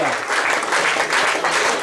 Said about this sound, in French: Allez, on peut continuer à les applaudir.